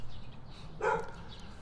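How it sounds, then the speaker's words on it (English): Outdoor dogs giving a single short bark at moderate distance, standing out briefly over faint background noise. "There's dogs all over here that do not want me here."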